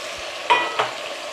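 Remaining ingredients go into a pot of moong dal khichdi with already-cooked peanuts, giving two brief stirring and sizzling bursts close by with no talk.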